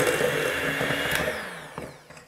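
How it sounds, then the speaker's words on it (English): Electric hand mixer whirring steadily as it creams butter with vanilla for caramel apple cream cheese cupcake frosting, a continuous close motor drone that tapers off near the end. "I'm going to cream the butter,"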